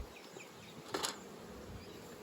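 Honey bees buzz softly around an open Flow Hive, a faint, steady hum with a brief brighter burst near the middle.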